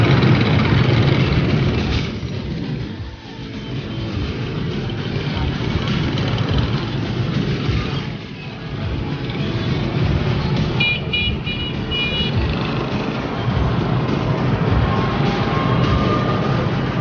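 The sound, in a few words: motorbikes and traffic on a Sunday night in Vietnam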